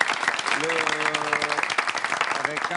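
Audience applause for an athlete holding the Olympic torch on a game show, broad clapping filling the clip with a voice speaking briefly over it.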